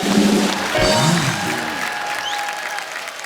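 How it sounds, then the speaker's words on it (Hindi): Studio audience on a Hindi television talk show breaks into applause, a burst of clapping that starts loud and tapers off over a few seconds, with a brief voice at the start. "इसके लिए तो पहले तालियां बनती है।"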